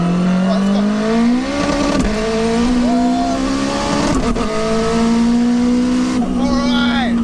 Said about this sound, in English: Let's do a proper pull. Just one. Second gear. Full boost from second gear.